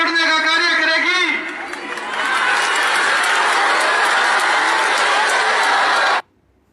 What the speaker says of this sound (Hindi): सामने मूर्खों की भीड़ की तालियां, उनके जयकारे तो आप सुन ही रहे हैं